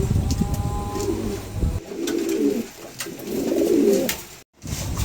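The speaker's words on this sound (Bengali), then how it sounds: "চমৎকার এক জোড়া কবুতর ভালো লাগলে অবশ্যই সংগ্রহ করতে পারেন" A pair of pigeons coos in low, throaty bursts, several soft rolling calls close by with brief pauses between them.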